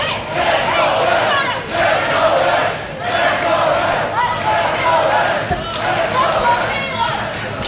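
A Phoenix wrestling crowd at an AWF High Voltage event cheers and roars loudly and continuously, swelling in waves with shouts rising above the din throughout.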